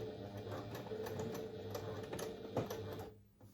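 Sewing machine running a steady stitch along fabric with an edge foot at longer stitch length, a continuous close mechanical whir that stops briefly near the end.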